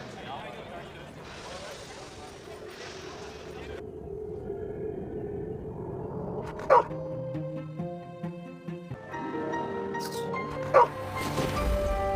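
A dog in an Amsterdam walkthrough game yips and barks a few times, with short sharp calls standing out over ambient game music and background tones.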